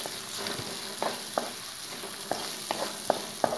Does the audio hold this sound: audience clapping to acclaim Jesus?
no